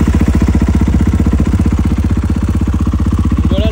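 A warm KTM 500 EXC-F motorcycle from 2023 with an Akrapovic exhaust idles close by, its single-cylinder thump beating fast and even under a loud, steady drone with no voices.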